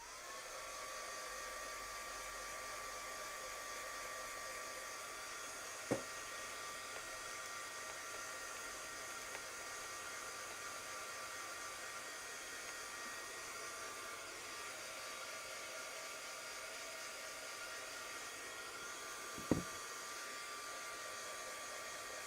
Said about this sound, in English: just bear with me while I give this a bit of a blast with the heat gun